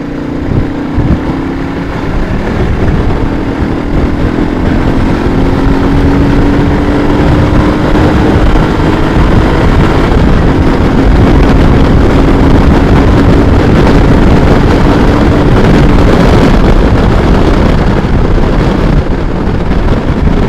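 Royal Enfield Meteor motorcycle at speed on the road: loud, constant engine drone with a rising tonal pitch, heavily buried under roaring wind buffeting the microphone for the whole stretch.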